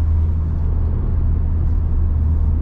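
A JB4-modded car's engine runs in a loud, steady, close rumble with a deep low drone that holds level throughout, with no voices.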